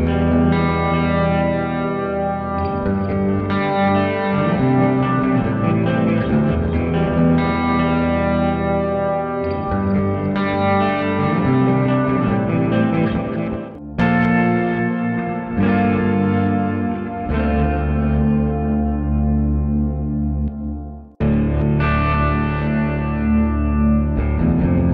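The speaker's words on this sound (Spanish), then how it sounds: "Aquí es donde resaltan mucho estas pastillas con alta ganancia." A cheap Jackson electric guitar with high-gain pickups plays heavily distorted chords and riffs with effects, loud and sustained for about twenty-five seconds, with brief stops between phrases and no talk.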